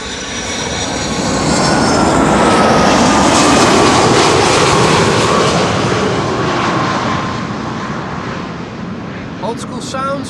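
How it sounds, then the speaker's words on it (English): An Icelandair airliner arriving from Reykjavik roars past at an airport, its jet engine noise swelling loud and broad, peaking mid-pass, then slowly fading into a distant rumble. "Iceland Air 500, last airplane of the show, arriving from Iceland"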